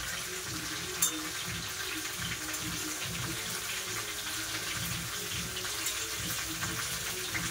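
A strainer is washed under a running tap, steady gushing water splashing against it with a low, churning wash and a few faint clinks, and no voices.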